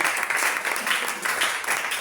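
Church congregation applauding together in a warm burst of steady, dense clapping that pulses slightly across two seconds, close and fairly loud.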